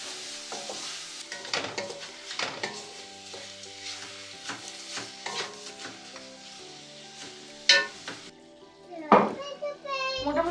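Onions with salt fry in a pan while being stirred, soft sizzling under irregular scraping strokes and a couple of sharper clanks near the end, with a voice and talking in the background.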